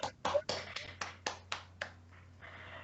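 Slow, separate claps land at an even rhythm, about eight in a row, sounding close and fairly faint as someone applauds a professor at the end of an online meeting, with a low steady hum underneath.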